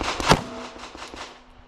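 A single sharp pistol shot during trigger practice at a shooting range, a loud crack followed by a short echoing tail and a few fainter reports that fade out.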